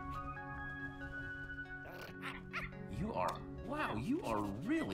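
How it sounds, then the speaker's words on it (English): A puppy in the Minecraft Story Mode video game lets out a series of short yips and whimpering barks that rise and fall. They grow louder toward the end, over a steady tonal game background. "Hello, little puppy dog."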